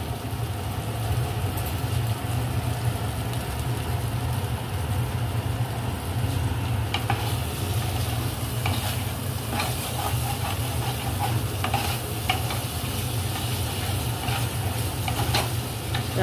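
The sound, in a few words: foloi fish curry frying and being stirred in oil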